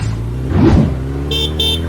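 A vehicle approaching on a road, passing close with a swelling engine rush, followed by two short horn toots.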